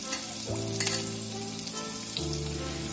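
Cumin seeds, chopped green chilli, ginger and garlic fry in hot oil for a Tamil kadhi pakoda, a steady close sizzle with stirring clatter and a fresh burst of crackling as more ingredients go in.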